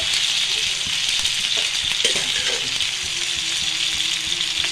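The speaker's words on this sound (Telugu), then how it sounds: "మళ్ళీ ఈ ఫిష్ మీద ఆయిల్ వేసాను, కొంచెం వేసి ఇది ఫ్రై చేసుకుంటానండి." Fish sizzles in hot oil in a pan for a fish masala curry, producing a loud, continuous crackling fry with small spits and pops close by.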